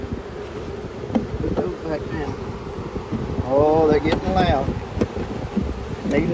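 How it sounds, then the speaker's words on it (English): A dense hum of a honeybee swarm buzzing close by during a spring swarm catch, with a voice speaking briefly over the swarm and some wind rumble. "Bees and more bees."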